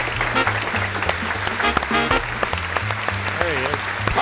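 A studio audience on a talk show applauds a guest, Steven Ciceron, with loud, sustained clapping under music with a steady bass line, as a voice speaks over the top.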